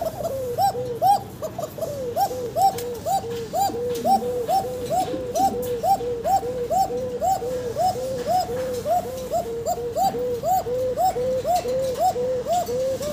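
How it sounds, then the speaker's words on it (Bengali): Fancy pigeons, including Danish and German Beauty Homer birds, coo in a fast, repeated rhythmic series of soft throaty calls, close and clear over faint background noise, with no talking. "ড্যানিশ কবুতর দেখতে পারতেছি"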